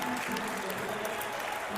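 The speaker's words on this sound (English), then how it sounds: "Please put your hands together and give Josh a huge round of applause for all of his efforts" A crowd at an athletic center gives a warm round of applause for a departing coach, dense, continuous clapping that stays steady and fairly loud throughout the short stretch, with faint voices mixed into the noise.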